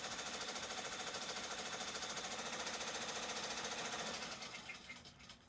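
Embroidery machine stitching a baby bib, a steady rapid mechanical chatter with a fast, even rhythm that runs loud and unbroken before easing and fading near the end.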